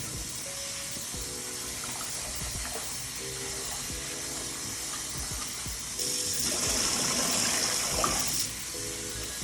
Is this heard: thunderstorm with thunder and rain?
no